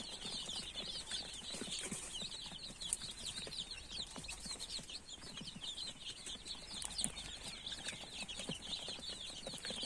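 Broiler chicks eating feed, a dense continuous chorus of high cheeping and peeping with soft pecking and scratching underneath, steady and close.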